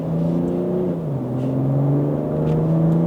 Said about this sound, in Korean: 저는 그런 배기음은 안 나겠지만 그래도 한번 들려줘야죠